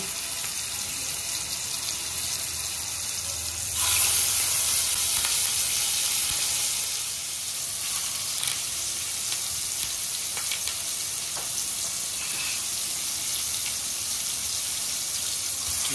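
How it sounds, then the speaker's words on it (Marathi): Surmai kingfish pieces fry in a pan, giving a steady, close sizzle that runs the whole time and swells briefly, with a few faint clinks over the crackle. "आता आपण इथे सुरमई फ्राय करून घेतो"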